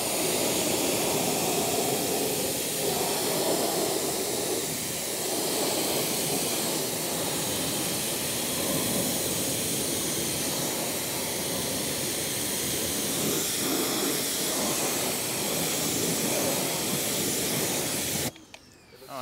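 An Active 2.0 pressure washer sprays steadily as a Spool is cleaned outdoors, a continuous loud hiss of water jet that runs almost unbroken for about eighteen seconds before abruptly stopping.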